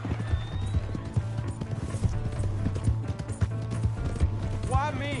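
Horse in Red Dead Redemption 2 galloping with a quick, steady clip-clop of hooves close by, a short whinny near the end, and voices shouting over the hoofbeats.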